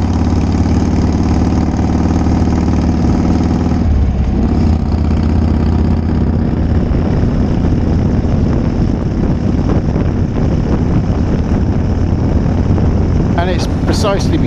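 A Harley Davidson Shovelhead motorcycle engine runs loud and close on a test ride, a low steady throb buffeted by wind noise across the whole stretch.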